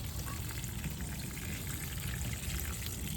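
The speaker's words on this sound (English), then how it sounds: "we're watering, we're putting it right where the roots are at" Garden water pours onto mulch around the roots of freshly planted plants, a soft, steady splashing rush that holds evenly throughout with no voices.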